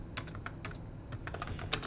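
Quiet, close-up keystrokes on the mechanical keyboard of an old AST Advantage Explorer 4/33sx laptop, irregular taps in short bursts with no talking.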